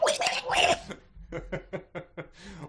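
A performer voicing a character's harsh cough during an audiobook-style reading, with a rough vocal burst followed by a run of short, evenly spaced hacking coughs, close and clear.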